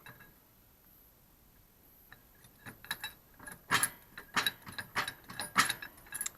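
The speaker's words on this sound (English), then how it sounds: "So I'll just show you it jacking up now." An SGS 2.5 tonne high lift trolley jack raises a car with a sagging air suspension, giving a series of irregular metallic ratcheting clicks and clanks that grow louder partway through.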